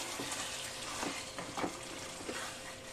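Marinated chicken sizzles in a pan while being stirred, with quiet frying crackle broken by a few soft scraping strokes of the spoon.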